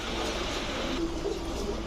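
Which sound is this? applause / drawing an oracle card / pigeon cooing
pigeon cooing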